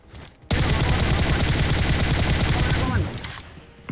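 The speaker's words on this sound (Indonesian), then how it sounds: "Aduh, ada yang nembak." Heavy automatic gunfire in a PUBG Mobile match, a dense, rapid volley of shots that bursts in suddenly, holds for about two and a half seconds, then trails off.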